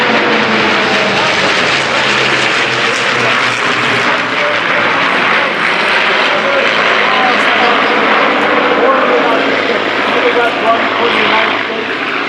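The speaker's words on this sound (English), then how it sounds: "Grumman aircraft, the F-8 Bearcat" Piston engine of a Grumman F-8 Bearcat at an airshow, a loud sustained roar holding steady for several seconds with a crowd and an announcer's voice mixed in.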